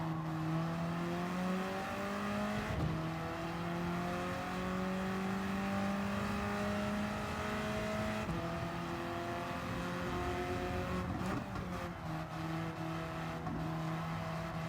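An Alfa Romeo Giulia racing on a wet track in a driving video game, its engine droning steadily at high revs with brief shifts in pitch as it brakes and accelerates through the corners.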